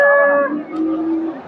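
A large crossbreed dairy cow at a busy cattle market lets out one loud, close, drawn-out moo that drops in pitch and trails off.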